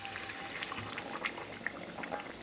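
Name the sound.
hot meat stock poured into chicken curry with potatoes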